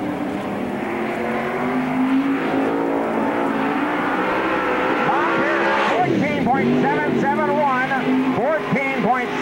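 Dirt track race car, the Murphy Trucking 32 car, at Spoon River Speedway during the 1999 Summer Nationals, its loud engine roaring and revving with rising and falling pitch through the turns while an announcer talks over it.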